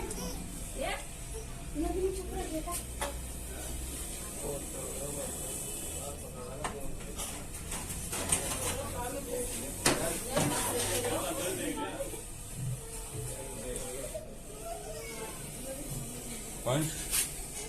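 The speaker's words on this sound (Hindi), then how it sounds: "बहुत गुस्से में सांप, इसकी फुफकार सुन के आप आइडिया लगा सकते हो।" An angry cobra hiding under a cupboard during a rescue gives sharp, breathy hisses that come in bursts. People talk and move around nearby, and the hisses sit partly under their voices.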